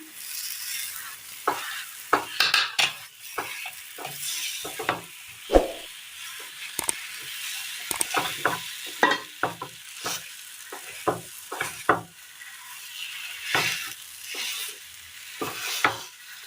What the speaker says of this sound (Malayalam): ഇനി ഇതിലേക്ക് നമുക്ക് വറുത്ത് വെച്ചിരിക്കുന്ന